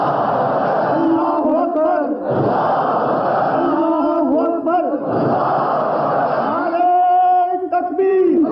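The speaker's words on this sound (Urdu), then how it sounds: "آپ لگاؤ نعرے" A large crowd at the annual Ahmadiyya Jalsa Salana gathering in Germany chants the Allahu Akbar slogan in loud, repeated call-and-response bursts, with a leader's voice and massed voices swelling together.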